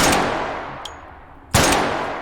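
Two sharp gunshots from a gun chambered in 10mm DSM in the game H3VR, about a second and a half apart, each with a decaying tail and a faint metallic ping between them.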